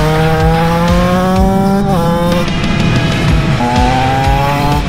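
TM 125 motorcycle engine cruising through town in sixth gear at about 4000 rpm, a steady loud nearby two-stroke drone with a brief dip in pitch around the middle before settling again.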